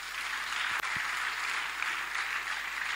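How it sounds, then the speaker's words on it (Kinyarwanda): A church congregation breaks into sustained applause, a dense, even wash of many hands clapping close by that holds steady from start to finish with no talk over it. "Dukomere Imana amashyi."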